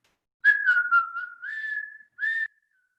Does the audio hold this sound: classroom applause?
no